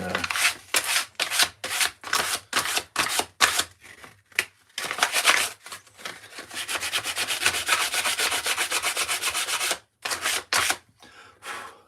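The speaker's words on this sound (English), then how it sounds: "use my 1-inch sander" A small 1-inch belt sander works a wood carving, its abrasive rasp coming in short repeated passes and then a longer continuous run, close and loud, with brief pauses between strokes.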